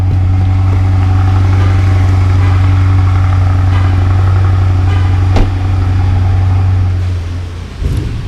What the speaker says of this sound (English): And there the car goes. Starts up just like that.